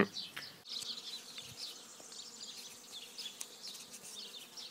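Honeybees hum steadily around their hives, a dense, even buzz close by with brief louder passes of single bees, and nobody speaks.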